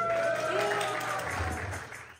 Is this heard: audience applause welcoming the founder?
yes